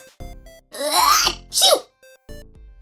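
A single loud sneeze bursts out between quiet, sparse background sounds, followed by a shorter sharp exhale.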